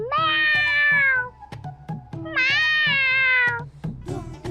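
A cat meows twice in long, rising-then-falling cries, close and clear, then gives a shorter third call over faint background clatter.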